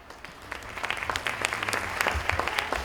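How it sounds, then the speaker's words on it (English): An audience at an annual day celebration claps in steady applause to welcome panelists for a discussion on the future of books, building slightly louder and dense throughout, with no talk. "So let's welcome them by a round of applause."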